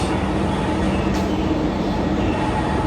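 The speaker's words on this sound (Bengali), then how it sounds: "প্ল্যাটফর্মে আমাদের ট্রেন ঢুকে গেছে, আর এই ট্রেন আসছে শিলচর থেকে" The Silchar–Rangiya Express sits at a station platform, its low, steady mechanical rumble and hum filling the air at close range, with a faint brief hiss partway through.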